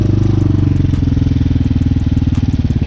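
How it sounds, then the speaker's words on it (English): A Hawk 250cc dual sport motorcycle warming up, its engine idling loud and close with a fast, steady, throbbing pulse and no talk over it. "It's good to get that bike out to get it warmed up."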